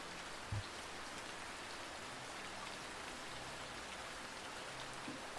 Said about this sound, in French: Suivez à présent une nouvelle goutte de pluie qui tombe cette fois au milieu d'une forêt